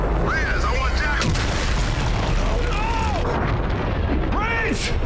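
Artillery barrage from the Olympus Mons gun in Call of Duty: Infinite Warfare, a steady loud wall of rumbling blasts with rising whine-like sweeps over it, dense and continuous.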